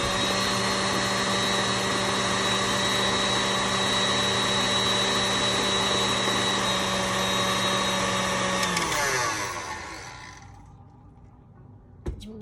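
An electric hand mixer whips cream with vanilla bean for no-churn vanilla ice cream, a loud steady motor whir running for about nine seconds before winding down and stopping, leaving near silence.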